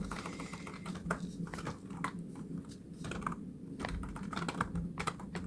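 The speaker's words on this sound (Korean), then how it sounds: "제가 마이크를 앞에다 두고 타이핑을 하려고 하니까 오타가 자꾸 나네요" Rapid, steady keystrokes on a computer keyboard while entering data in Excel during ITQ exam practice, close and continuous with no talking.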